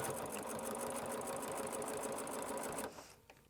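Sewing machine steadily stitching along a fabric strip, running close and continuous for nearly three seconds before stopping, followed by faint handling noise.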